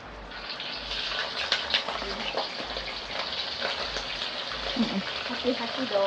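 Lemongrass and spice paste bubbles and sizzles steadily in a pot, a soft continuous crackle with faint clinks near the end.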